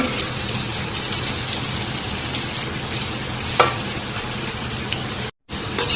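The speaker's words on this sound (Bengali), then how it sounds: "এখানে গ্যাস পুরো বাড়িয়ে দিয়ে আলুটা ভেজে নেব আর একটু নাড়াচাড়া করে করে আলুটা ভেজে নেব" Potatoes frying in hot oil on a gas stove, a steady loud sizzle like rain with occasional stirring scrapes, close up, briefly cutting out near the end.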